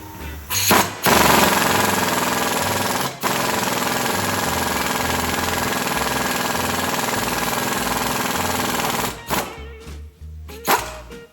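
A grinder cleans up the ridge around a ball joint hole on a used vehicle, producing loud, harsh, continuous grinding close by for most of the stretch, with a brief dip before it runs on and then stops.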